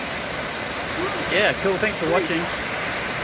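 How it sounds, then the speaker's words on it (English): A small waterfall at Gamay Falls roars as a constant, loud broadband wash of falling water, with someone talking briefly over it. "this is a pretty cool waterfall"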